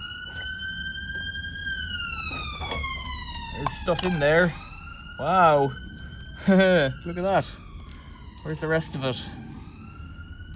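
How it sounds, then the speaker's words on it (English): A siren wails in the distance, its pitch sweeping up and down steadily while a person talks close by over it. "You can hear a siren in the background."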